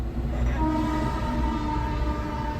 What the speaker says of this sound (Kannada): ಟ್ರೈನ್, ಪ್ಯಾಸೆಂಜರ್ ಟ್ರೈನ್ ಇದು